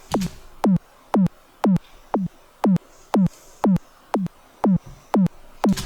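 A synthesized kick drum from a Max for Live device repeats about every half second, eleven sharp hits, each with a hard click at the attack and a short falling low thump, played alone.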